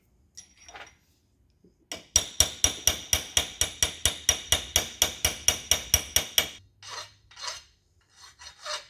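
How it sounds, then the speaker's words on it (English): A drift punch is hammered on a Big Block Chevrolet Scat connecting rod clamped in a rod vise, giving about eighteen rapid, evenly spaced ringing metallic blows, followed by a few lighter taps. "Use a drift punch."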